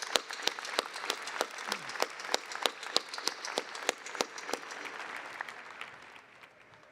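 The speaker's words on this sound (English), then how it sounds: "So please join me in a round of applause." An audience at a Heinz College graduation and hooding ceremony applauds a retiring colleague, with sharp distinct claps standing out over a softer wash of clapping that gradually tapers off.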